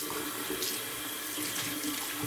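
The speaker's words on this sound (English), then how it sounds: "Just rinsing my hands off." A bathroom tap runs steadily while hands are rinsed under the stream after a shave, a close, continuous splashing rush of water into the sink with no pauses and no voices.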